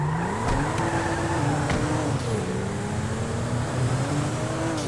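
Car engine in GTA 5 driving along, a steady motor hum whose pitch rises and falls as the vehicle accelerates and shifts, loud and continuous with a faint squeal of tires.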